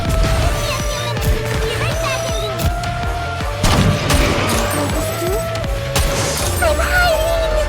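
Dense gunfire in the mobile shooter game Nikke, rapid bursts and booming impacts layered over game music, loud and continuous with voices speaking over the action.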